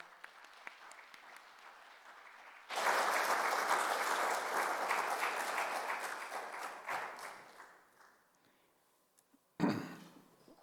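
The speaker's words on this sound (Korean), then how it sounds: "우리 이필찬 교수님 이제 등단하실 때 우리 따뜻한 박수로 환영해 주시기 바랍니다." A church congregation at a Book of Revelation lecture breaks into loud, sustained applause to welcome the visiting professor. The clapping fades away over several seconds, and a single dull thud follows near the end.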